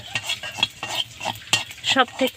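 Whole cumin and coriander seeds sizzle in hot oil in a pan, with scraping stirs and light metallic clinks, close and steady, with no speech.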